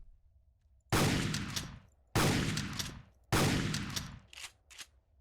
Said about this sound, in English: we'll use the shotgun